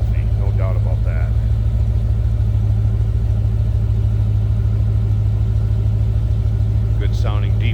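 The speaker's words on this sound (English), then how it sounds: "Good sounding deep rumble." Close, steady low rumble from a 1990 Chevrolet Corvette ZR1 engine idling behind the car, a loud continuous throb throughout, with brief bits of someone talking near the start and end.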